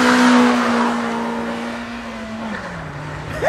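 A Honda Civic Type R FK8, tuned, drives off with its engine note loud and close, revving with steady harmonic tones that dip as it shifts, then a brief rise in revs at the end.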